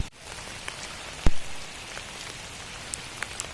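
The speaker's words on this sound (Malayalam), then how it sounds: "ഗൈസ് അത്യാവശ്യം നല്ല മഴയുണ്ട്." Heavy evening rain patters steadily on and around an umbrella, a dense, even hiss with a few sharper drops and taps standing out close by.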